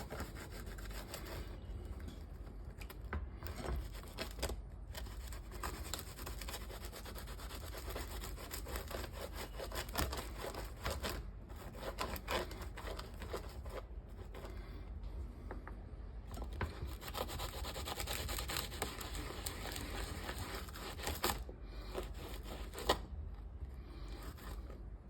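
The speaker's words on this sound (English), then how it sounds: "I'm just taking a clove of garlic, I'm going to rub it" A garlic clove is scraped over crusty fresh bread, making a faint, continuous dry rasping that repeats in short strokes for a long stretch.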